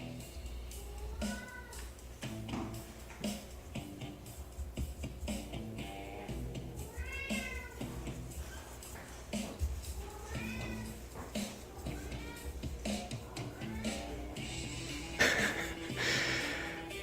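A house cat meows repeatedly at close range, a series of rising and falling cries spread across the stretch, with soft rustling and breathing sounds in a quiet room between calls.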